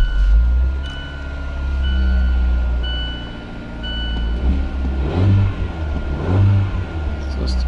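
A 2017 Fiat 124 Spider engine idles with a low rumble, then revs up twice in quick surges, close by, with a faint steady tone running underneath.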